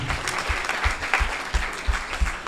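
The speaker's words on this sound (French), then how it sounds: "Ça mérite des applaudissements." An audience at a literary tribute event breaks into applause, a steady close wash of many hands clapping with a rhythmic pulse running through it.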